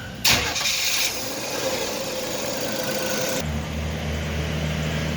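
A 4.3 V6 engine in a 2000 Chevy Lumina van starts and runs, with a loud rev at the start settling into a steady, close idle that drops to a lower, smoother hum toward the end.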